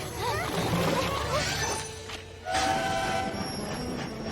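Rumbling cartoon train in My Little Pony: Friendship is Magic, with a brief horn-like tone, clattering and rushing noise that dips momentarily before resuming at close range.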